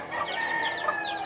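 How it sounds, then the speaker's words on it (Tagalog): Chicken clucking close by, a steady run of short, bright clucks over a little more than a second, loud and clear with no talk. "may manok pala tayo guys"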